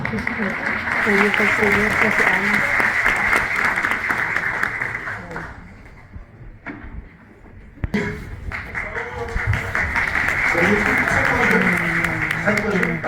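An audience at a magic show applauds two volunteers, with thick clapping under a talking voice; it thins out midway, then swells back up to full strength.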